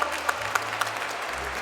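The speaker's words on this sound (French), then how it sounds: "On applaudit d'abord" Audience applause at a trophy ceremony for a Franco-Armenian chamber of commerce anniversary, a short burst of clapping from a crowd with a few sharper claps standing out.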